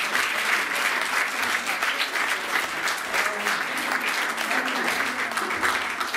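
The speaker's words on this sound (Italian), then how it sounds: "Un applauso Antonella." Steady applause from an audience at a student music recital at a music studio, dense continuous clapping for a pianist about to play, loud and even throughout with no speech over it.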